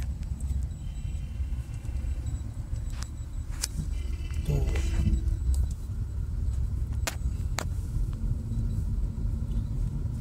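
A Tata Nexon EV electric car drives the road from Pinjore toward Chandigarh, giving a steady low road rumble and tyre noise throughout, with a few brief clicks and rattles inside the cabin.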